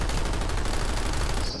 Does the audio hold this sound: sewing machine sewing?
no